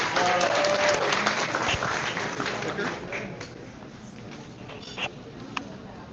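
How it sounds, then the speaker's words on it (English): An audience at a casual astronomy talk in Charlottesville applauds to welcome a speaker, a burst of crowd clapping that starts strong and fades over several seconds. "round of applause for him before he gets going with this talk"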